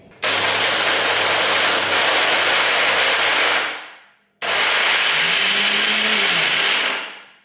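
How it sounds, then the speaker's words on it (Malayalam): A kitchen mixer grinder pulverises dried raw jackfruit into powder, loud and steady whirring in two long runs separated by a short pause, each winding down as the motor stops. "ഇത് ഞാൻ മിക്സിയിലെ ജാറിലോട്ട് ഇട്ടിട്ടുണ്ട്. ഇനി നമുക്കിത് പൊടിച്ച് നോക്കാം"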